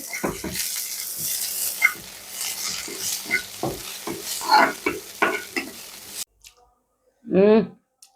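Flowers stir-fried in a pan with browned garlic, a close busy sizzle broken by repeated stirring scrapes and clinks, with a voice talking over it before a pause and a brief louder scrape near the end.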